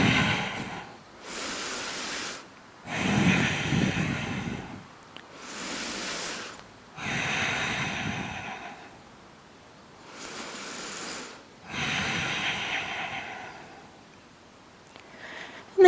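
Slow, deep breaths during an outdoor yoga practice in a park, long airy inhales and exhales alternating in a steady rhythm, close and fairly loud, with no talking.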